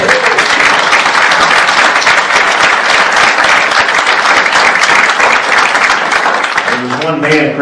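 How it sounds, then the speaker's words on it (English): Loud, sustained applause from an audience at a talk, dense clapping for about seven seconds before it thins out and a voice begins to speak near the end. "I want to applaud him and thank him for his service"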